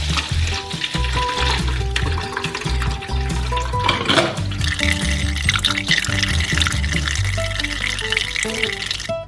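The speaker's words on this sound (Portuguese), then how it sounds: "Quando a jarra ficou cheia, nós despejamos o suco no balde." Fresh orange juice poured from a full jug into a bucket, a continuous loud liquid splashing and gurgling, close by and without speech.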